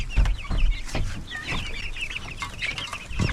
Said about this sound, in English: Oh, look at those guineas.